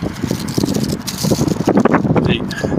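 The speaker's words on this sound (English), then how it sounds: "obnoxiously windy." Wind buffets the microphone in rough, gusty rumbles, with a rattling noise in the background.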